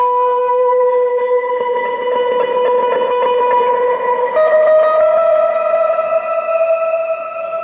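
Electric guitar sustaining chords through a lush, modern shimmer reverb, with an octave-up layer blooming in partway through; steady, loud and alone with no talking.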